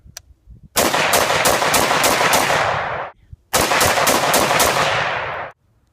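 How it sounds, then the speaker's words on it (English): A gas-operated gun fires two loud, close bursts of rapid automatic rounds, each lasting a couple of seconds with a brief gap between, with no voices. "you can shoot multiple rounds with this gun"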